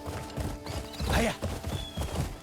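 A horse in the video game Crimson Desert clip-clops at a steady gallop with rhythmic hoofbeats and lets out a loud whinny midway, close and clear.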